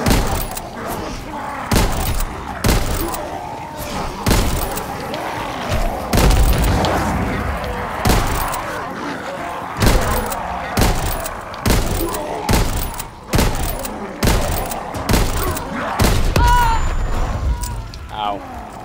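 Austen SMG firing in a WWII shooter game, repeated loud bursts of sharp submachine-gun shots in a steady rhythm, heavy booming impacts between them, close and dominant throughout.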